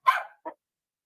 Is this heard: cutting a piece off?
no